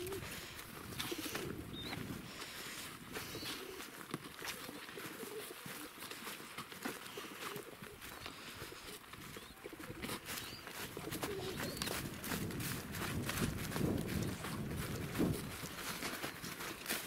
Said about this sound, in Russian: Голуби с такой дали приехали.